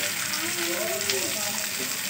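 Chicken 65 pieces frying in a pan with a steady, close hiss and sizzle, with faint voice-like tones running through the middle.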